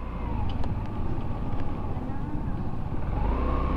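SYM Tuscani 150cc classic scooter engine running, a continuous close-up hum that holds at a steady idle throughout with a slight rise near the end.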